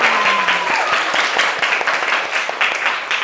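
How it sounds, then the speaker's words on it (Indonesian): A classroom of students bursts into loud, dense applause, steady and close, with a brief voiced tone at the start before the clapping carries on alone. "Oke, tepuk tangan untuk kita semua."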